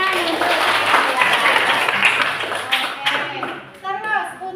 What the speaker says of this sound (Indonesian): Tepuk tangan untuk Sakila